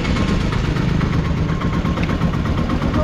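Pickup auto engine idling steadily at close range as the vehicle pulls up, a continuous low rumble with a slight mechanical throb and no voices.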